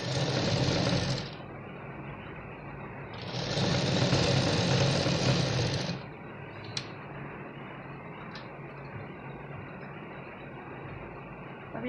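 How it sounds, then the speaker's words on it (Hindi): A sewing machine runs double stitching along a blouse seam in two loud, close bursts of rapid whirring, each a few seconds long, with quieter handling and faint clicks between them. "अब इसमें डबल सिलाई कर देंगे"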